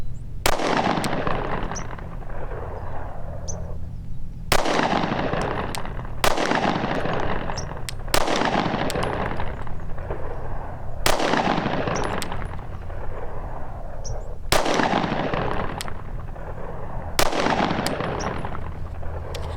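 Loud, sharp pistol shots fired while testing North Forest Arms tritium night sights, about eight evenly spaced reports with ringing decay over steady outdoor background noise.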